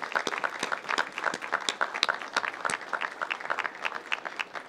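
Mayors and attendees at a suburban Cook County grant announcement applaud staff, a steady round of crisp, fairly close clapping by a modest group, with no talk over it.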